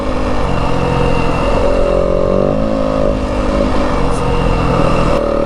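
Yamaha WR250F dirt bike ridden slowly in third gear around 25 through Arizona desert terrain, its close, loud single-cylinder engine holding a steady throbbing drone with slight throttle variations throughout.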